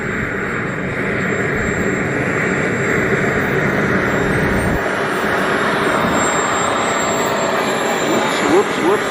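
A model Viper jet with a turbine engine flying at the Triple Tree airfield during the Joe Nall 2025 event: a loud, continuous jet roar with a high whine, sustained throughout and shifting slightly as the aircraft passes.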